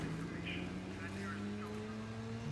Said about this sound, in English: I kinda wish this bike had a slightly different engine noise